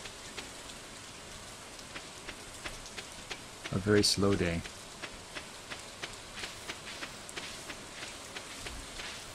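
Rain falls steadily in the video game Stardew Valley, a soft pattering with regular faint drips throughout, while a person briefly speaks over it midway.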